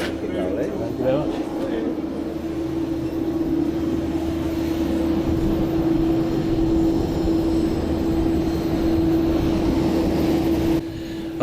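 Embraer 145 regional jet arriving at Stornoway on a flight from Glasgow, a steady loud engine drone with a strong sustained tone, continuous and fairly close, running for the whole stretch before cutting off near the end.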